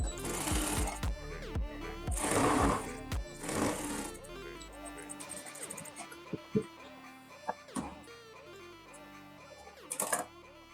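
A sewing machine stitches a folded strip for a padded embroidered blouse in short, quick bursts of stitching. Fabric handling clatters between bursts and some talk runs alongside.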